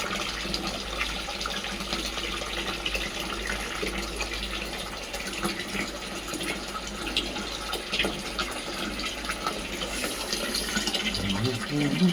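Water runs from a leaky tap on a loose pipe while someone washes their face at a sink. A faint, steady trickle and splash continues throughout, with a voice speaking quietly nearby.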